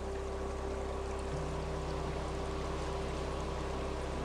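A clear mountain stream babbles in a continuous, even hiss of running water, with a steady low hum underneath and no breaks.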